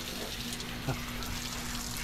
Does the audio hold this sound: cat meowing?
no